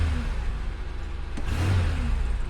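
Oldsmobile Cutlass engine idling cold and slightly high, a steady close rumble with a faint odd noise mixed in, awaiting timing chain and water pump work.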